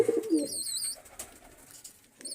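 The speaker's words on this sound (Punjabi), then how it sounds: "ਬਾਕੀ ਕਬੂਤਰ ਤਾਂ ਬੈਠੇ ਹੋਏ ਆ" Pigeons in a coop give soft, close cooing calls, a low throaty burst at the start followed by a few brief chirps and another coo near the end.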